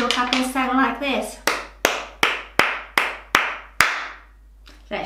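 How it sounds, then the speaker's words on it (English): Someone speaks briefly, then claps her hands eight times in a slow, even rhythm, each sharp clap ringing out alone and close, demonstrating clapping for young children in a phonics body-percussion lesson. "Did your clapping sound like this?"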